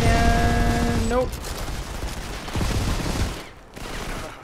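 Gunfire in the mobile shooter Modern Combat 5, heard as a burst of dense rapid shots after a brief tonal game sound, followed by rumbling echoes and a few more scattered reports at moderate loudness.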